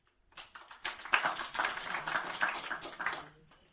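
Scattered clapping from the audience at a legislative hearing, starting after a short silence and swelling into uneven, fairly sparse applause that stays moderately quiet and continues to the end.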